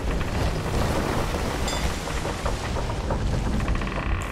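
Heavy rain pours steadily around a ship at sea during a storm in the pirate video game Sea of Thieves, with a dense, loud wash and low rumbling that could be distant thunder.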